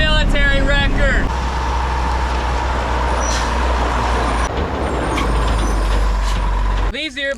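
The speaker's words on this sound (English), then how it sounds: "driving my extremely loud military wrecker" Extremely loud rare military prototype wrecker truck driving, its heavy engine drone steady and close throughout, with brief voice-like tones at the start and a sharp shift near the end.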